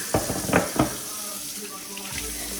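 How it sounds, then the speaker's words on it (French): Tap water runs into a sink while plates are washed, a soft continuous hiss with a few clinking knocks near the start, close and fairly quiet. "Lavez vos assiettes."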